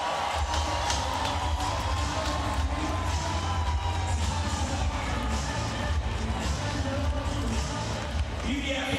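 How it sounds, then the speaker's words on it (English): Arena crowd at a Pro Volleyball Federation championship semifinal at the CHI Health Center in Omaha roars and cheers continuously, a loud, dense wall of voices with steady low rumble and scattered shouts throughout. "the crowd very much back into it"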